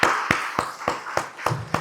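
A church congregation claps at a Sunday afternoon Korean church service, heard as about seven crisp, evenly spaced hand claps close by, with a faint voice in the background.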